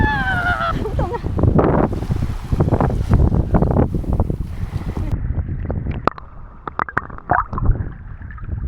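Strong wind at Rhodes Beach in Greece buffets the microphone in loud, rough gusts, with people talking over it and an occasional brief rustle.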